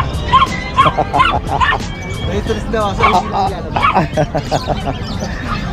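A dog barks and yips repeatedly in short bursts, mixed with whimpering, close by while people talk over it.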